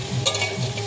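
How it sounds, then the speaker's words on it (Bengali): Water poured into a hot frying pan of kulekhara greens with potato and eggplant, a short burst of sizzling hiss with stirring, close and fairly loud. "এটা সিদ্ধ হওয়ার জন্য এবার জল ঢেলে দেবো।"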